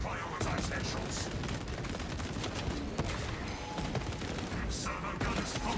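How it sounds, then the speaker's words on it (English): Servo gun firing in the video game Space Marine 2, a dense, continuous rattle of rapid gunfire with mechanical clatter filling the mix, loud and sustained throughout. "I need my servo gun to shoot those guys."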